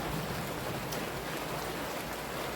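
Heavy rain pours steadily, a dense, loud wash of drops hitting surfaces nearby, unbroken from start to finish.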